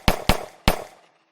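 A pistol sound effect from an Unreal Engine zombie shooter game: three sharp, loud shots, the first two in quick succession and the third after a short pause, each ending in a brief fading tail.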